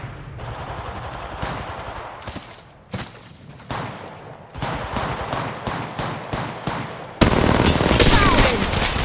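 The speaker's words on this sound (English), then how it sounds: "Shots fired at me." Gunfire fills a match of the mobile video game Apex Legends Mobile, with dense rapid bursts of automatic shots and booming blasts, loud and close, ending in a sustained roar of fire.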